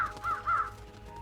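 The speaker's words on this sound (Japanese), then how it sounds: "カラスたちが来た。" Crows in the Trüberbrook video game give three rising-and-falling caws in quick succession, clear and fairly close, followed by a faint lingering tone and no talk.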